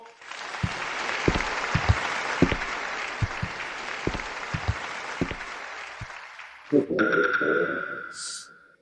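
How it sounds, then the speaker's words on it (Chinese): An audience applauds to welcome a young master onto a stage for a musical performance, a steady burst of many claps with individual sharp hand-claps standing out. The applause cuts off abruptly near the end, followed by a brief different tonal sound. "下面让我们掌声有请慕容小少爷登台演奏。"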